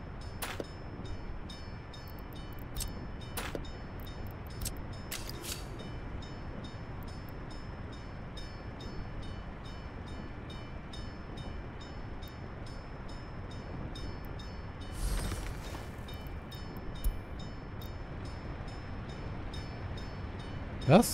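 Trains rolling through the city-building game Workers & Resources, a low continuous rumble held steady throughout, with a few brief clicks and a louder swell near the middle, no voices over it.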